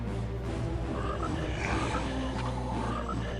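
Short croaks from a frog in a video game sit over steady game music, a handful of brief calls spread across a few seconds with no voices.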